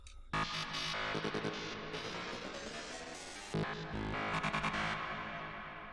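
Dense, bright music with a high, shimmering delay tail resampled in Ableton Live 10 and pitched up an octave, repeating above it, continuous for several seconds with brief cuts.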